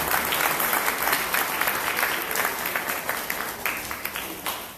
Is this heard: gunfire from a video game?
no